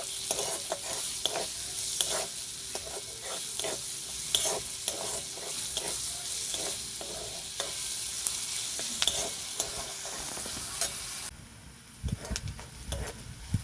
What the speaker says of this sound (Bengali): পেঁয়াজটা আমার ভাজা হয়ে গেছে লাল করে